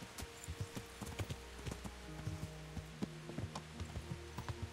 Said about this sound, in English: Go, horse, you got this.